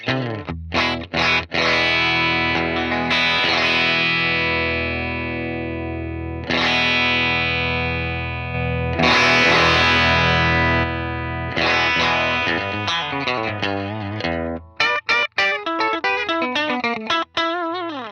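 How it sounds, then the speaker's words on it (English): Electric guitar through a Fractal AX8 with the stock pedal compressor, country-style tone: sustained chords and bright picked notes with chorus shimmer and light drive, ending in quick staccato stabs. "Let's have a listen to it at 5, what the just stock pedal comp number 2 does."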